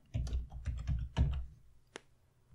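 Computer keyboard keys are tapped in a quick burst while a search keyword is typed, followed by a single sharper click and then quiet, with no talking.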